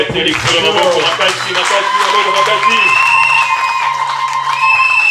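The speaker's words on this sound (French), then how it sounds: "Applaudissons fortement." An audience at a religious teaching session on pilgrimage claps loudly, mixed with cheers, whoops and raised voices. The clapping and shouting are strongest early and settle into a lighter patter with lingering tones.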